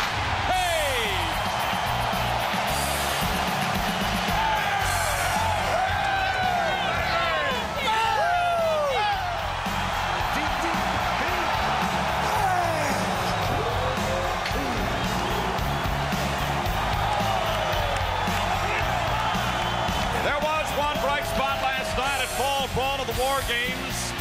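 Capacity crowd at a WCW Fall Brawl wrestling event in Winston-Salem roars steadily, with shrill whistles and cheering layered over dense arena hubbub from start to end.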